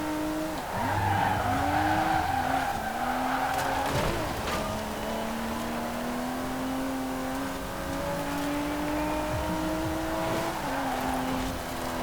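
In Forza Horizon 4, a drift-tuned race car slides with long, continuous tire squeal and skidding over a steadily revving engine, loud and sustained throughout with no talking.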